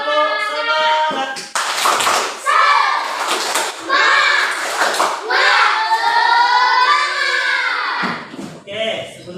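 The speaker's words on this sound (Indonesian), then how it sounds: "Oke, kita tepuk semangat" Children in an Indonesian classroom perform a rhythmic spirit clap, sharp patterned bursts of hand claps that alternate with loud chanted voices in a call-and-response rhythm, close by and lively.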